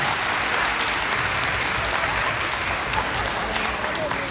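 A middle school audience claps in a school assembly, a dense, loud, even wash of applause that holds steady from start to finish.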